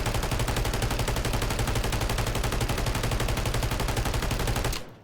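The Holger 26 machine gun in Call of Duty Warzone fires one long unbroken burst of rapid, evenly spaced shots, loud and close, and stops sharply after nearly five seconds.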